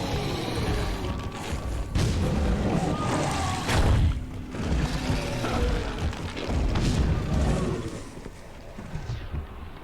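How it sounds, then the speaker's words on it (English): A grenade explosion in the horror game The Sinking City, heard as dense rumbling booms and crashes that sit loud and continuous through the whole stretch without clear pauses. "Grenade."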